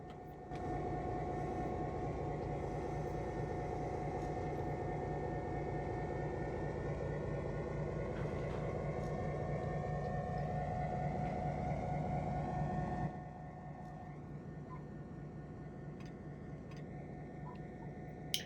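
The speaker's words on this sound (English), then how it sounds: "this locomotive's horn features a Doppler effect" A locomotive horn in the Trainz 22 railway simulator sounds as a long, steady, loud tonal blast with a gradual pitch shift, running for about twelve seconds before cutting to quieter rolling train noise.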